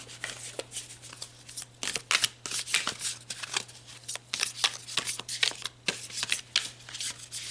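Tarot cards shuffled by hand, a quiet run of crisp riffling and flicking bursts in irregular rhythm, close up with no talk.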